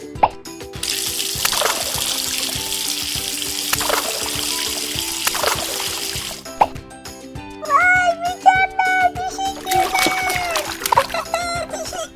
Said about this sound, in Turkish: Şimdi buradaki tıpayı açacağım ve sular çıkacak.